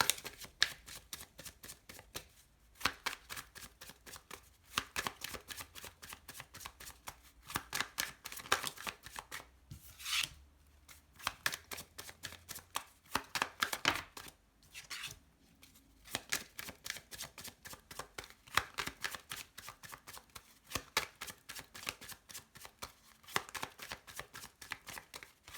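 Tarot cards are shuffled over and over in repeated riffling bursts separated by short pauses, close and fairly quiet, with no voices.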